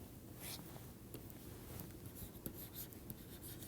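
Faint scratching of a pen writing lecture notes on paper, soft intermittent strokes close by in a quiet room.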